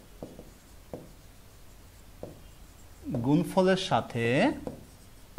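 A pen writes on paper during a sixth-grade math lesson, with a few sharp taps and scratches at first. Soon a person begins talking over it.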